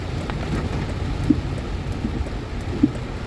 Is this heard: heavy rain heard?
yes